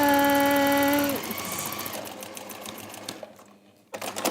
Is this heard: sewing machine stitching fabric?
yes